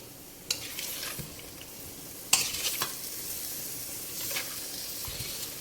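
Chicken sautéing in a pan with a steady sizzle, broken by a couple of sharp stirring clatters and scrapes close by.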